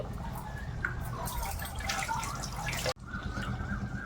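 Mutton liver pieces are washed in water in a kitchen, with steady splashing, dripping and trickling close by and a brief abrupt break partway through.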